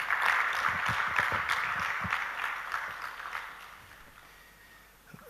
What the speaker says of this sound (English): Give the chief guest another hand clap.